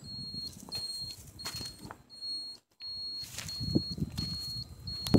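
Short high electronic beeps from a battery-powered beeper repeat in an uneven pattern, with a brief dropout midway, over low rustling and handling noise.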